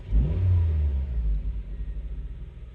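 A car engine revs up through its range during ECU tuning, a loud close rumble rising then falling back into a pulsing idle.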